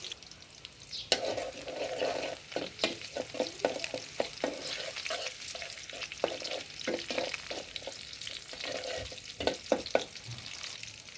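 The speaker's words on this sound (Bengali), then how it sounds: "রসুন দেওয়ার পরে একটু ভাজবো" Garlic frying in a pan for a vegetarian red lentil dish, a soft continuous sizzle broken by frequent spatula scrapes and taps against the pan, fairly quiet and close, with no voices.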